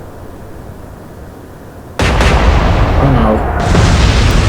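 Submarine Triton's guns opening fire on a battleship in the naval video game Atlantic Fleet, a sudden loud boom that gives way to sustained roaring gunfire, with a brief exclamation from a voice.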